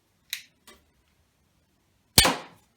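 Three sharp snaps from a PSE pistol crossbow fired in quick succession outdoors, two lighter releases close together followed by a louder, ringing shot, with silence between and no talking.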